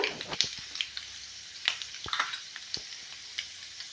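Peanuts and mustard seeds frying in hot oil for avalakki, quiet background sizzling broken by sharp, scattered pops and spits of spluttering seeds, close by and with no voices.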